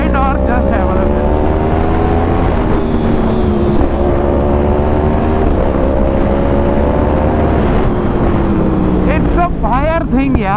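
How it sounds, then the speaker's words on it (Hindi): A Yamaha R1 superbike roars loudly and continuously at high rpm, its engine note climbing and dropping through gear changes, with wind rush and crackling exhaust backfire heard near the end. "जो पीछे से बैक फायर सुनने में मिलते हैं ना हाई आरपीएम में"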